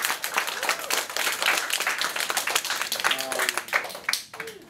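A room of children and guests at an Edo kids programme claps for themselves in a lively burst of many hands, with a few brief voices and tones near the end as the applause thins out.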